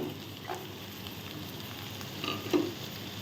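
Peas and carrot pieces with green chillies sizzle steadily in hot oil in a pan for pulihora, a continuous close frying hiss with a few soft stir clicks and no talking.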